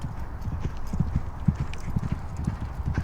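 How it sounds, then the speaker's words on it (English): A filly canters easily on a training track at Newmarket, her hooves beating a steady, rhythmic clip-clop close by for the whole stretch, with faint background noise and no talk. "She worked yesterday, so she's just a nice easy canter today."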